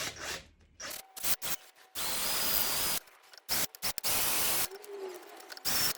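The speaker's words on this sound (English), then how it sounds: "if I drill across from there, I should be at the right depth" A drill whirs in several bursts of varying length, starting and stopping, biting into a wooden guitar neck for a truss rod with a gritty, rasping grind.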